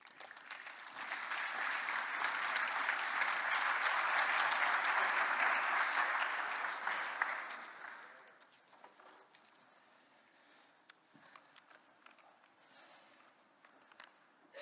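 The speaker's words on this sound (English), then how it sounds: "We may welcome them with an applause." An audience at a London panel on Chile's constitution applauds the panelists as they are welcomed. Broad, steady clapping fills the room for about seven seconds, then fades to scattered claps and quiet room noise.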